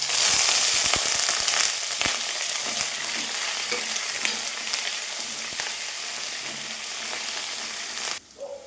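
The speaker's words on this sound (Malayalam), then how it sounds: "ഫ്രൈ ആയിട്ടുണ്ട്" Spices and dried chillies sizzle and crackle loudly in hot oil for mango chutney powder, a continuous frying hiss with scattered pops, dropping away abruptly near the end.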